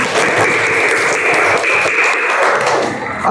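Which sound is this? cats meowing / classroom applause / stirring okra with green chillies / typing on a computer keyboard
classroom applause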